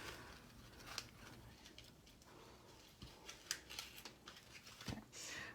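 Scissors trim paper for a card project in a quiet space, giving several sharp, faint snips at irregular intervals, each a short crisp cut with soft rustling between them.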